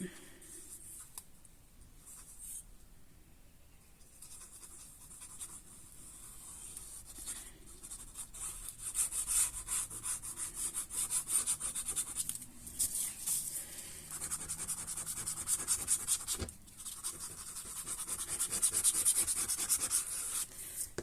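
Glue being brushed onto the paper flaps of a handmade accordion album, a soft continuous rubbing and scraping at close range that swells and fades in uneven strokes, with no voices.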